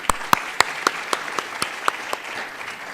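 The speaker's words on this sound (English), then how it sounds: "Let's clap for Kuwait." An audience claps for Kuwait at a youth-policy closing session, sharp, evenly spaced claps in a steady rhythm, loud and close, with no voices over them.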